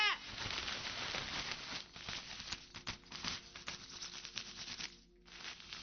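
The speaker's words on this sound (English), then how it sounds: "Now this is actually a rain suit. Do you hear that?" A rain suit is handled close up, its synthetic fabric giving off rapid crinkly rustles and crackles in uneven bursts, with brief pauses between handlings.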